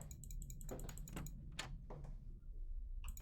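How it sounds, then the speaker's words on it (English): A door in the game Scrutinized swings shut on its own, producing a quick run of clicks and rattles, then a sharper latch knock, moderately close over faint room tone. "That door just automatically closed."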